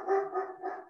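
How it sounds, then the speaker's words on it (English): A dog barks repeatedly nearby during a podcast recording, a few loud, rough barks in quick succession with no one talking over them. "sorry about the dog."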